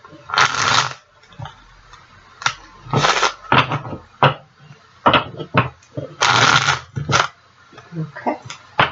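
Tarot cards shuffle in several quick riffle bursts, close and crisp, separated by short pauses with a few light taps.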